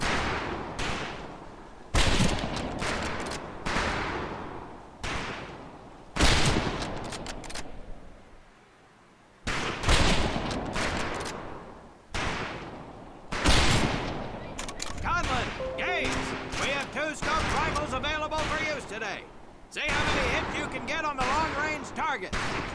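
Gunfire from the 2004 PC game Medal of Honor Pacific Assault, with repeated loud shots and bursts in a clustered rhythm, broken by short pauses, heard alongside game sound effects and talking.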